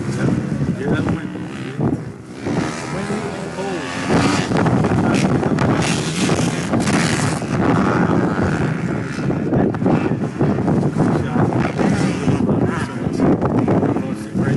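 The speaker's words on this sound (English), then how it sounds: "Hear that wind?" Strong outdoor wind roars and buffets the microphone in uneven gusts, loud and continuous, with a person talking over it.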